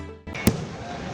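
Fireworks at Kota's 132nd Dussehra fair as the giant Ravana effigy burns: one sharp, loud bang bursts out against a steady crowd murmur and background noise.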